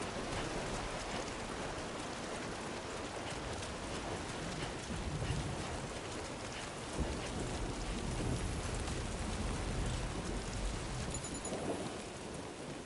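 Steady heavy rainfall pours across a stormy outdoor scene in Death Stranding 2, with low thunder rumbling underneath throughout and a few louder rolls swelling near the middle and end.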